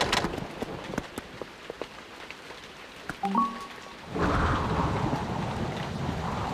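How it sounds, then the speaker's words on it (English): Cartoon thunderstorm: a few sharp ticks and brief tones over near silence give way to a steady, loud wash of rain that holds until the end. "Thunderstorms can't hurt you, Julian."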